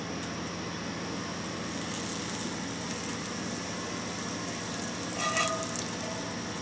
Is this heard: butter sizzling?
yes